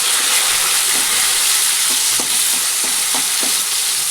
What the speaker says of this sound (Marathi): आता तेल तापलं आहे आपलं त्याच्यात एक टमाटं टाकून घेतलं